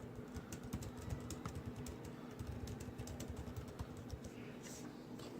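Rapid, quiet tapping on a computer keyboard runs steadily throughout, close and alone over a faint low hum.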